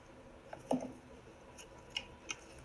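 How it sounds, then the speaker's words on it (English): Scissors trim tape in a few faint, quick snips close by, isolated clicks with quiet pauses between them. "I'm going to trim up the tape."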